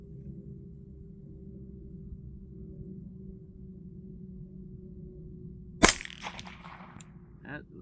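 A single sharp, suppressed gunshot from a 9mm AR with a 16-inch barrel and R9 silencer firing subsonic ammunition cracks out after a low steady hum, followed by a brief fading tail.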